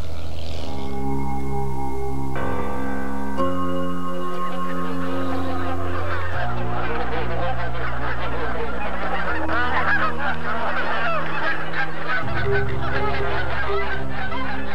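A flock of geese honks loudly and continuously, many overlapping calls close by, heard alone with no talk, over a broadcast background of music.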